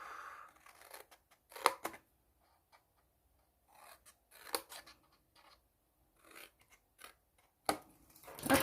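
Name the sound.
scissors cutting the four tabs of a gift box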